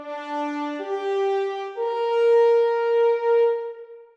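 A French horn holds a plain long note in its normal playing position, mellow and rounded, rising in pitch in two steps and sustaining before a quick cutoff, close and solo.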